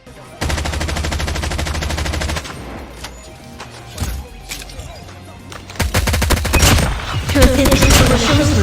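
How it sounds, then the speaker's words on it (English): Gunfire from the COD Mobile video game, an AK117 firing in loud rapid automatic bursts, then quieter suppressed shots, then another dense burst of full automatic fire at close range. "Let's also hear the difference between firing sound and the suppressed firing sound."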